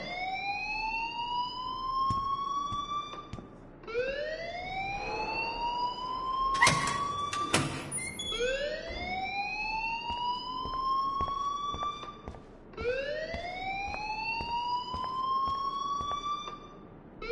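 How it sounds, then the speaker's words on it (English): A video game alarm wails in repeating rising sweeps roughly every four seconds, a siren-like tone that climbs and holds before restarting, with a brief burst of harsher noise midway and no talking. "please turn off that alarm since that's your job"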